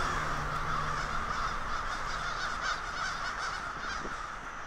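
A huge flock of thousands of crows in Lawrence, Massachusetts, cawing all at once in a dense, continuous chorus of overlapping calls, loud and steady throughout with no speech.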